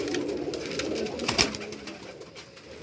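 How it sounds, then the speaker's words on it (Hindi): Ferozpuri pigeons on a Karachi rooftop make a low, muffled cooing that holds steady, with a single sharp tap partway through. "फ़िरोज़पुरी के ऊपर फ़िरोज़पुरी कबूतर आए जा रहे हैं"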